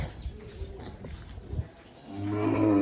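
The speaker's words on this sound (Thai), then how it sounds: "ควายแม่นะคะทุกคนยังไม่ได้ให้อาหารนะคะ" A water buffalo on a farm, waiting to be fed, lets out a loud, sustained low moo that swells near the end, preceded by quieter rustling and animal movement.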